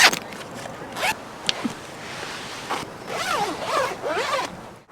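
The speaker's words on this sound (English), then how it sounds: "can you unzip the front?" Front zipper being unzipped in short bursts, a few quick rasping pulls followed by a longer run of brisk, close zipping strokes.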